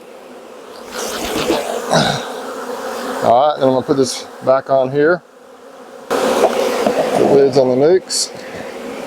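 Honeybees buzzing loudly as they are shaken out of hive boxes into nucleus boxes during a beekeeping split, a dense swarming hum that swells in bursts while someone talks over it.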